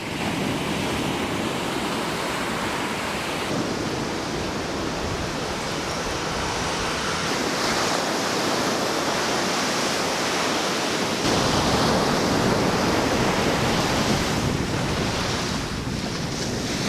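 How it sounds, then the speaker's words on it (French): Strong ocean waves pound Puerto Viejo beach in a continuous loud wash of surf, with wind noise on the microphone and no voices. "Les vagues y sont quand même assez fortes."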